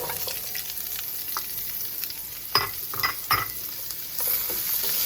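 Onions sautéing in a pan for coconut curry tilapia, a steady close sizzle running throughout with a few sharp stirring scrapes and clinks midway.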